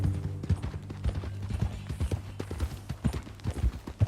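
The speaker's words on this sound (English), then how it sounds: "That new horse?" Horse hooves clip-clop steadily on hard ground in Red Dead Redemption 2, with a quick, uneven walking rhythm that sounds close and clear over a low background rumble.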